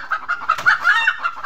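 Chickens cluck loudly and repeatedly on a rabbit farm, a close run of sharp, agitated clucks and squawks in quick bursts with no talk.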